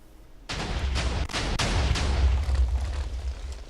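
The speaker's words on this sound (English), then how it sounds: "it's got a 3x3 dispensers right here, so 9 TNT is gonna be for the one shot, which is enough to go through this obby wall" A Minecraft TNT cannon with a 3x3 grid of dispensers fires nine TNT in one shot at an obsidian wall, heard as a rapid run of sharp booms that merge into a loud, sustained rumbling roar after a quiet start.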